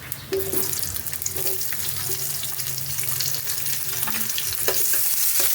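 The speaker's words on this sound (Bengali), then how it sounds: "তেলের মধ্যে আমি দেব কালো জিরে, আর দেব পেঁয়াজ কুচানো কিছুটা।" Black cumin seeds and chopped onion frying in hot oil for a cauliflower poppy-seed dish, with a steady close sizzle broken by occasional stirring clinks and scrapes, no voices.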